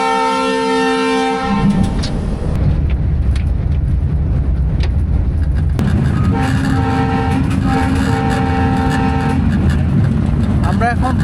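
Riding in the locomotive cab of the Kanchan Commuter train between Parbatipur and Panchagarh: a loud, sustained horn blast opens, then the engine and wheels roar steadily, a second horn sounds midway, and a voice speaks briefly.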